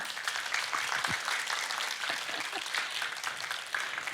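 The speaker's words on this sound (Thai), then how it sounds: "ขอเสียงปรบมือ" Studio audience applause at a Thai music session with a band, fairly soft continuous clapping that fills the clip, a few faint voices mixed in.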